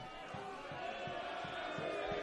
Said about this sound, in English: he's earning the wrath of the local crowd, who has certainly let him know where he's playing at today